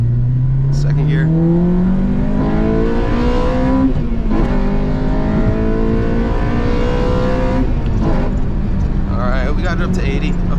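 A nitrous-equipped Acura RSX Type S accelerates hard, its engine note climbing loud and close through the gears with a shift break, while people talk over it.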